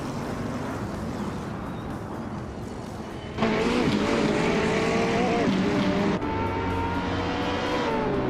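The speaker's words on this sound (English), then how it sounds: "Wrath 92 is driving a 2015 Chevrolet Corvette C7R." A 2015 Chevrolet Corvette C7R race car engine in a racing video game, a sustained high-pitched whine that jumps louder partway through as gears shift, mixed with other cars close by.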